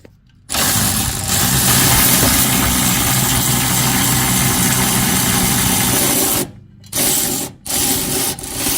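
Electric impact tool spinning off 21 mm bolts on a Ram 1500 rear bumper step, a steady loud whirring run lasting about six seconds, then two short bursts after brief pauses, with no talking.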